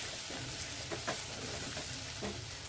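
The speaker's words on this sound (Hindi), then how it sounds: "आलू फ्राई करेंगे हम, अब इसके ऊपर डालेंगे थोड़ा सा लाल मिर्च पाउडर" Potatoes frying in a pan with red chilli powder over low heat, a soft continuous sizzle broken by a few spatula scrapes, quiet and close without talk.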